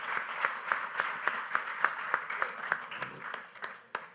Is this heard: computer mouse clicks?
no